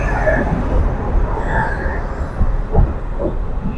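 An empty local train pulls out of Durgapur at night toward Bardhaman, giving a steady, close rumble of wheels and carriage with a few faint clanks.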